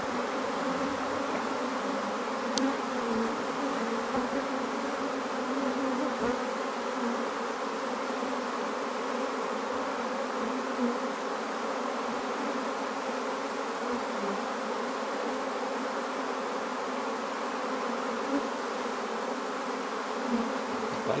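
A honeybee swarm hums steadily as bees fan at a hive box, a dense continuous buzz close by that stays even throughout with no voices.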